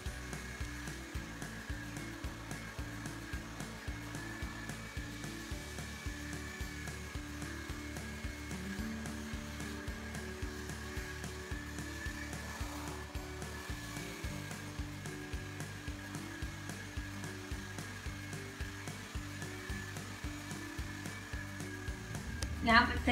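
A handheld hair dryer blasts cold air through hair near the end of a voluminous blowout, a steady close whooshing drone that holds for over twenty seconds with slight shifts in pitch as it moves.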